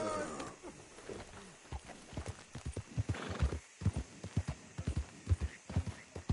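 Steady clip-clop of horse hooves in a loose repeating rhythm from Red Dead Redemption 2, with a brief whinny early on and faint background ambience.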